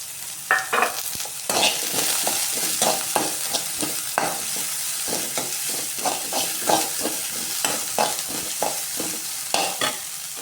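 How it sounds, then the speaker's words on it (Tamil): Five cloves of garlic and a small piece of ginger are stirred and sautéed in a pan, with a steady sizzle and repeated scraping spoon strokes throughout and no talking. "பூண்டு ஒரு அஞ்சு பல் இஞ்சி ஒரு சின்ன பீஸ் சேர்த்து நல்லா வதக்கலாம்"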